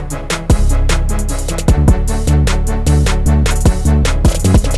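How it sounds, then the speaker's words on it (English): A second 808 bass line with pitch slides rolls under a dense, loud beat of crisp drum hits, the low notes gliding between pitches in a steady rhythmic pattern. "we have some pitch slides going on here as well"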